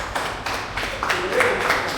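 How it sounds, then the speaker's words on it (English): An audience clapping for a speaker at a fathers' community event, a few scattered claps over a steady crowd murmur, with voices in the background. "Come on, clap it up for Brandy, y'all."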